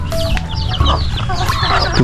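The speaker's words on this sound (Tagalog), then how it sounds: "Ito po manok din." Farm chickens clucking close by, several overlapping short calls and chatters in quick succession, loud and busy with no talking.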